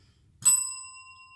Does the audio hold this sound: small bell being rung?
yes